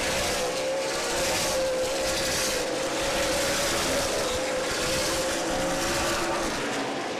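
Race cars roar together around an oval speedway during a 100-lap feature at Angola Motorsport Speedway, a steady droning engine wail holding for the whole stretch, loud and continuous with no talk over it.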